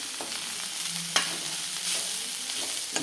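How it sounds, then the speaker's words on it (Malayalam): Masala paste sautéing in a pan, a steady close sizzle with soft scraping stirs and one sharp utensil click partway through, no voices. "അപ്പോൾ ഈ അരപ്പിൽ ഇത് കിടന്ന് നല്ലതായിട്ടൊന്ന് വഴന്നിട്ട്"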